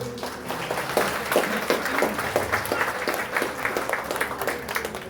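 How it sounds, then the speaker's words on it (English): Audience applause at a National Day gathering in a mosque in Upper Serangoon, a mid-sized crowd clapping steadily and fairly loudly, with scattered sharper claps, continuous for about five seconds. "So we'll give each other, all of us, a big round of applause."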